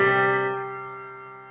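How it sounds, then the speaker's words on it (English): A consonant interval of a fifth, two pitches struck at once and sustained, decaying smoothly over a second and a half, close and unaccompanied. "Interval of a fifth"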